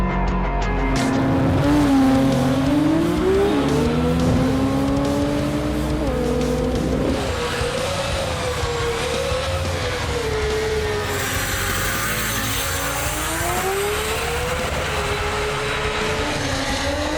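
A Nissan R34 Skyline GT-R drag car at a GT-R festival drag racing event screams under hard acceleration, its engine pitch climbing through several gear changes, loud and sustained with a rushing roar.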